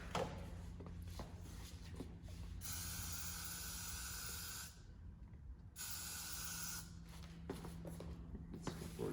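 Hairspray hisses from an aerosol can onto a man's ballroom hairstyle in two close bursts of about two seconds each, separated by short pauses, with quiet talk and handling sounds around them.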